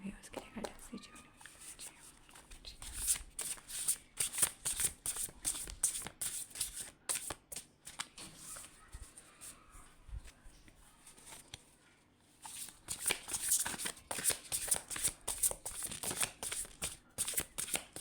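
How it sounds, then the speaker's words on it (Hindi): Tarot cards shuffled repeatedly by hand in a reading setting, a dense run of soft riffling and pattering close by, with a brief pause before the shuffling resumes louder. "जब मैं कार्ड शफल करूँ"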